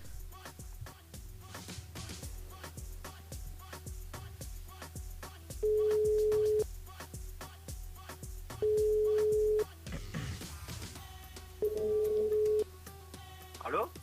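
Telephone line tones play while a radio station calls a contest winner. Repeated steady beeps ring out between stretches of background noise and faint talk.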